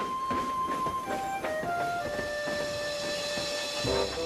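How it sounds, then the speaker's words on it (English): A steam locomotive in a Trainz simulation moves off with a hiss of steam and rhythmic chuffing, overlaid by sustained whistle-like tones, steady and moderately loud throughout. "Percy watched Thomas and the circus slowly chuff away."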